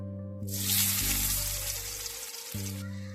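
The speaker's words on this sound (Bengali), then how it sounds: "এবার মাছ ভাজার তেলে আলুগুলো ভালো করে ভেজে নেব" Potatoes fry in oil left over from frying fish, with a close, loud, hissing sizzle that starts suddenly and holds steady over a soft music bed before cutting off near the end, with no talk.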